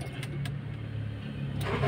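A car engine cranks briefly and catches, close by, in a short burst with a low rumble building at the end.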